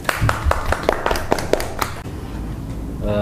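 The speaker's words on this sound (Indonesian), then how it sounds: "Beri aplaus untuk kita semua" Several people clap in short, fairly even bursts at a small office team meeting, sharp close claps for about two seconds, then thinning out and fading to near quiet.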